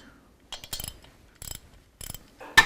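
A ratchet wrench backs off bolts on an S&S Cycle motorcycle engine during a performance upgrade, giving several short bursts of close, crisp clicking separated by quiet pauses, with no talking.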